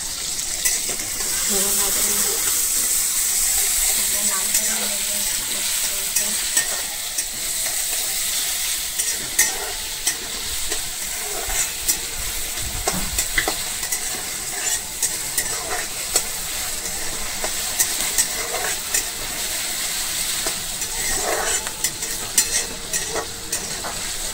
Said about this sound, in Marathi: तेल टाकायचं आपल्याला, कांदा लाल करून घ्यायचा कांदा वगैरे लाल